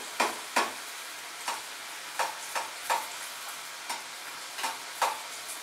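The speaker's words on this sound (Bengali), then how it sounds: "একটু সময় নিয়ে এগুলোকে ফ্রাই করতে হবে" Chicken pockets fry in oil over medium-low heat with a soft sizzle, punctuated by about a dozen sharp scraping clicks of a utensil stirring or turning them in the pan.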